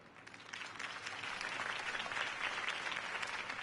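Crowd applause in the video game Batman: The Telltale Series, swelling from a quieter start into sustained, even clapping, with no talk over it.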